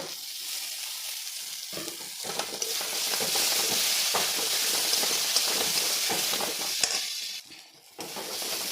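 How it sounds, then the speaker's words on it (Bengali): Masala paste and fish fry in a pan with a loud, continuous sizzling hiss that swells in the middle, dips briefly near the end, then picks back up. "এই যে মশলা পেস্টটা দিয়ে দিলাম। এটা ভেজে নেব।"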